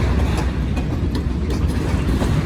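Freight train with locomotives rolling past, a loud, dense low rumble with faint rhythmic clatter of wheels and cars, close by and steady throughout.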